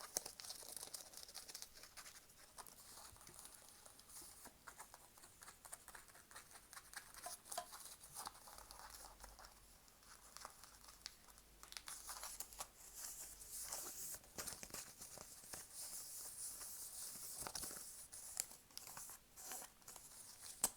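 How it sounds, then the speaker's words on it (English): Fingernails scratch and crinkle over the ribbed plastic back of a ribbon bow, a close, quiet stream of rapid scratchy ticks and rustles with brief pauses and no speech. "The back of this ribbon is plastic and ribbed."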